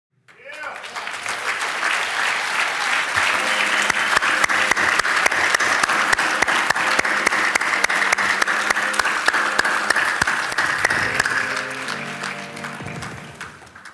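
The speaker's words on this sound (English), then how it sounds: "Please join me in a round of applause for Pat Washington and the communications te" An audience at an Urban League of Metropolitan St. Louis event breaks into sustained applause that swells from a few claps to a dense, loud ovation before tapering off, with music playing underneath.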